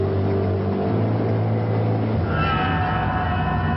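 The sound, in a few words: Ford Mercury car driving on Manhattan streets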